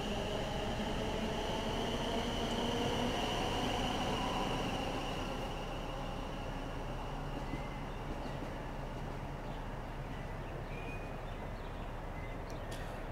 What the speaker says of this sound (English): And the class 360, the class 360 departs.